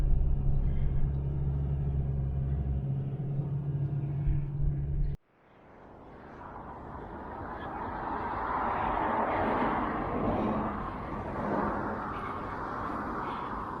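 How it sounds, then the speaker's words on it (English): A camper van drives around Bournemouth with a low engine rumble, first steady and close, then cutting off abruptly before a broad road and wind noise builds up again. "we'll have a little drive around and see what's occurring"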